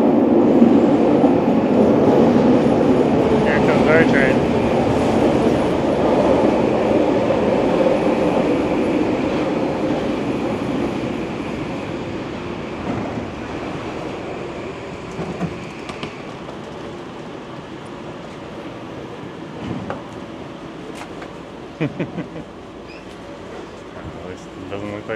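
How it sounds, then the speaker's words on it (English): A train rumbles into a Vancouver station loudly, the roar slowly fading as it slows, with brief squeals and clanks near the end and voices faintly in the background. "Here comes our train."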